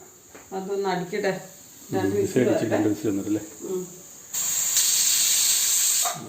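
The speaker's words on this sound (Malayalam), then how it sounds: "കുക്കർ അടിച്ചു ഒന്നടിച്ചു ഇനി ഒന്നും കൂടെ അടിക്കണം" Talking gives way to a loud, steady hiss of steam jetting from a pressure cooker whistle while cooking pineapple curry, continuing alone to the end.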